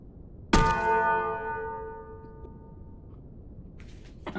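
A single bell rung by striking a metal gauntlet gives one sharp, loud clang that rings on with a long, slowly fading metallic tone, followed near the end by a few fainter clinks and a rustle.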